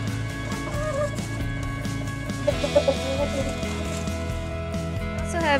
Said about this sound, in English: So I have 2 little like Sussex chicks that we haven't named yet.